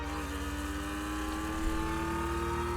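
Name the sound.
car engine running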